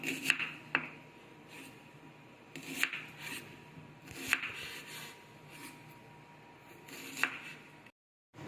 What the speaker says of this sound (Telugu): ఇప్పుడు మనము ఈ ఉల్లిపాయని సన్నగా కట్ చేసుకుందాము.